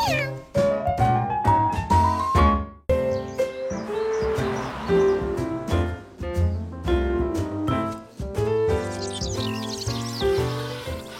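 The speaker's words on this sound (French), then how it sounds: "Assisté d'un chaton appartenant à un restaurateur italien." A cartoon kitten meows several times in rising, whiny calls over busy background music.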